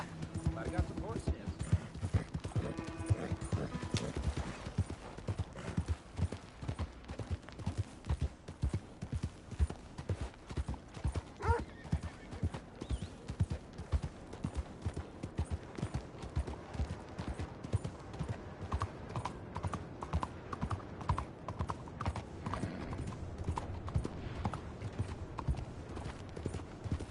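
Horse hooves clip-clopping in a PS4 video game, a steady, even rhythm of hoof beats going on throughout, moderately loud, with a person talking over it now and then.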